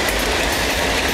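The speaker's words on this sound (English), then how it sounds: "just happened to be lucky enough to catch two trains here" Train rolling along the railroad tracks in front of the rail museum in Salamanca, New York, near Main Street, with a steady, loud rumble and clatter of wagons continuing throughout, no voices.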